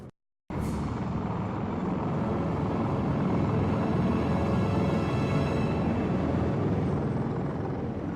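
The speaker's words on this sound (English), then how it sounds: "Hey, do you hear that? Another helicopter." In the game Last Horizon 2, a helicopter approaches in a steady, loud rumbling drone that begins abruptly after a short silence and holds continuously at close range, with no talking over it.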